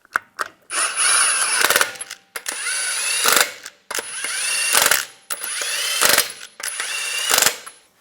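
A power tool runs the lug nuts onto a wheel of a 2011–2014 Hyundai Sonata in five or six bursts of whirring and ratcheting, each about a second long, separated by short pauses. The sound is close and loud.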